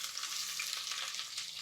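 Onions sizzle steadily in hot coconut oil in a pan, a continuous bright crackling hiss with no voices over it.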